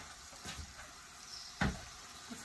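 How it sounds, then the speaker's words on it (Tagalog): Garlic, onion and tomato sauté in a pan with soy sauce, giving off a soft, steady sizzle broken by a few light stirring clatters, one louder than the rest. "habang ginigisa ko yung bawang sibuyas kamatis"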